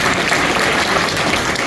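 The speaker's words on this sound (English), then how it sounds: "Let's give these folks another round of applause" Dense, steady applause from a dinner crowd at a Bill of Rights banquet in Knoxville, loud and continuous without a break, with no voices standing out.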